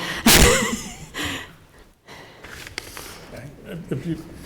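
A person out of breath just after playing a bocce match lets out one loud, close, sharp gasping breath near the start, followed by quieter, uneven breaths and faint murmuring voices in a meeting room.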